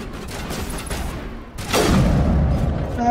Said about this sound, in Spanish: los cohetes, tú